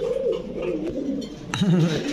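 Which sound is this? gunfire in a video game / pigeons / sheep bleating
pigeons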